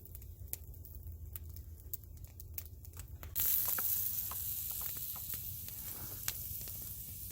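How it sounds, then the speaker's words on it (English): Quiet sizzling and crackling of steaks searing on a hot rock outdoors, with scattered pops and a hiss that grows slightly louder midway. "I don't know if you guys can hear them sizzling away or not"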